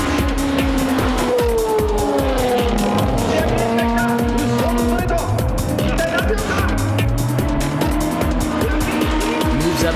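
A JDM race car on a time attack lap with tires at the grip limit, engine roaring and shifting pitch loudly and continuously while tires squeal, with a commentator talking over it.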